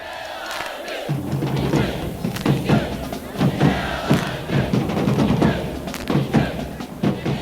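A capacity crowd of 51,000 roars at Clemson Memorial Stadium in Death Valley during Clemson's 1978 home football game against Virginia: dense, sustained crowd noise with scattered thumps and swelling shouts throughout.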